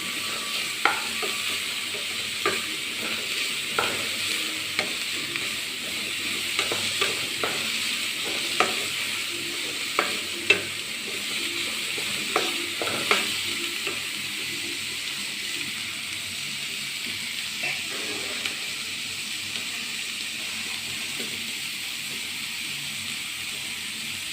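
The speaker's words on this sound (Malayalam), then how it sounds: "അത് നല്ലോണം മിക്സ് ചെയ്യാം എല്ലാം ഒന്ന് അതിൻ്റെ പച്ചച്ചവ പോകാൻ വേണ്ടിയിട്ടാണ്" Beef mixture stirred and frying in a pan, with a steady sizzle and repeated scraping clicks of the spoon against the metal throughout.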